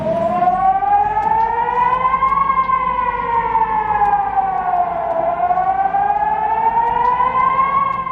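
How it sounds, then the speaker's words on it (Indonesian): A city air raid siren wails loud and alone, its tone rising and falling in long, slow sweeps that repeat across the whole stretch. "Tiba-tiba, sirine kota meraung panjang."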